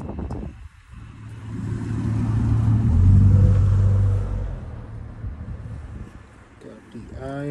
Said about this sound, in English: Got the iron Rhino skid steer, the IR1000, and there goes the brush cutter attachment.